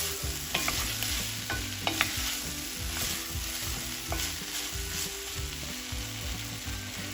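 Garam masala powder being stirred and roasted in a pan, a continuous close sizzle and frying hiss with repeated scraping strokes of a spoon against the pan, no voices.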